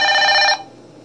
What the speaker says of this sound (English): Sorry about that, my phone rings all day long.